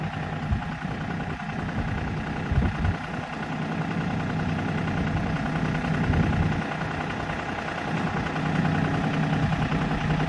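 A New Holland Workmaster 40 diesel tractor runs steadily at a low idle as its PTO engages, a continuous mid-low engine drone with faint clunks and vibration, no talk.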